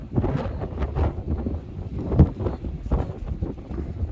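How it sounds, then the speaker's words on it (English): Strong wind blows outdoors, battering the microphone in loud, irregular rumbling gusts that rise and fall throughout. "Oh, this is the wind, pal."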